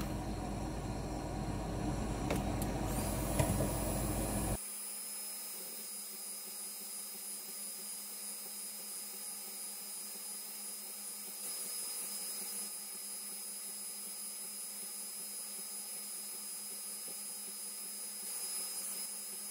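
A laser engraver burning the flip side of a business card gives a faint, even hiss with a steady high whine, after a louder burst of broadband noise at the start.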